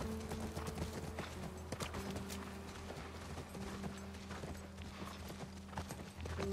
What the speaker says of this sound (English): Where Ellie learned how to ride a horse